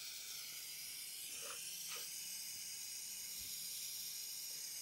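An oxy-fuel torch flame brazes copper air-conditioner pipe with a constant, faint, airy hiss that runs the whole time. There are no voices.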